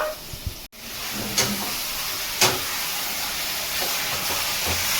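Mutton keema frying in a pan with softened onions makes a steady hiss, with a few sharp scrapes and clinks of stirring. No voices are heard.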